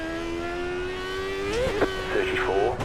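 A dirt oval race car engine in a racing video game holds a high, steady whine, then pitch rises and wavers as it revs harder, with brief clunks of shifting. A voice talks faintly underneath.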